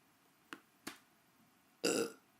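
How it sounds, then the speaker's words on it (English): A person burps once, loud and close, after two short sharp clicks or taps in an otherwise quiet room. "burp"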